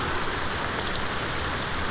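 Rain falls in a movie scene, a steady even hiss of dense drops with no voices, continuous and moderately loud throughout.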